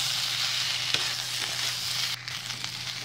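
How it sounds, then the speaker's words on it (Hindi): Mixed vegetables coated in spice paste sauté in a pan with a continuous close sizzle, punctuated by a few scraping stirs and a sharp knock near the middle, with no speech. "और अब इसे अच्छी तरह से सब्जी को भूनना है।"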